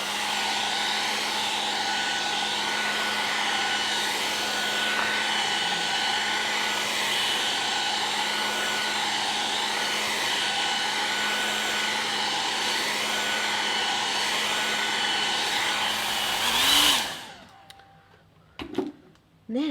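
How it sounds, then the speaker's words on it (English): A hairdryer blows alcohol inks around on a surface, a loud, steady whirring hum held close for about seventeen seconds before it cuts off abruptly, leaving faint handling noises. "I'm just going to use my hairdryer again to give them a little push around."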